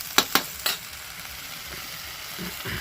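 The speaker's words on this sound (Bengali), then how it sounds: "টমেটোটা দিয়ে একটুখানি ভেজে নিতেই অল্প নাড়াচাড়া করে" Tomatoes frying with spices in a pan for a potato, aubergine and shrimp curry, a steady sizzle running throughout while a few sharp clanks of stirring land near the start.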